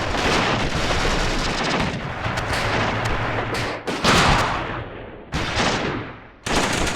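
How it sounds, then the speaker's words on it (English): A heavy artillery bombardment rolls on in the World War II strategy game Achtung Panzer Operation Star, with loud, dense booms and blasts running together and breaking off in short gaps. "We can designate artillery for our troops, so I can mark a few areas where we can start bombarding the enemy."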